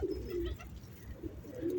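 Soft, low pigeon coos repeat a few times at a gentle rhythm, fairly close but quiet against faint background noise.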